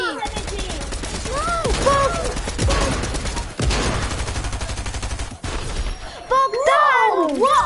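Rapid gunfire in the video game Fortnite, with bursts of shots and shattering hits crackling through an excited voice chat as several players talk and shout over the shooting.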